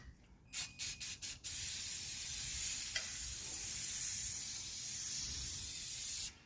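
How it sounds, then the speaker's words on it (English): Rust-Oleum acrylic enamel semi-gloss black paint sprayed from an aerosol can during work on a 1983 Mercedes 300CD: a few quick rattles of the can, then a steady close hiss of spraying for about five seconds. "the Rust-Oleum acrylic enamel, semi-gloss black"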